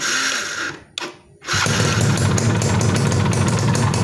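Yamaha FIZR motorcycle engine cranked and started, a brief starter whir and pause, then a steady close idle with a fast even putter.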